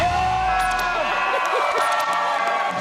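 A crowd screams, whoops and cheers for Halloween at a lighting and design center, a loud, continuous mass of excited voices up close with scattered shrieks.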